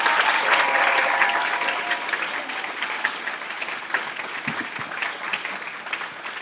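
An audience at a youth leadership academy launch lecture breaks into applause, a broad burst of clapping that starts strong and then tapers to a thinner, scattered patter.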